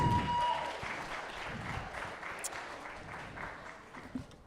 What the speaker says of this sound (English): A big round of applause for Janice Lacouvé.